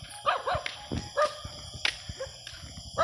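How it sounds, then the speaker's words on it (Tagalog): A dog barks in short bursts, a few sharp woofs and yips spaced irregularly, fairly close and loud. "Kasama ko na naman yung aso."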